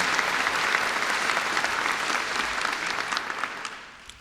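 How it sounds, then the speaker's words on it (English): A large audience applauds at a medical school white coat ceremony on a Joplin campus, a dense, steady wash of clapping that holds for about four seconds before thinning and fading out at the end. "How about another round of applause?"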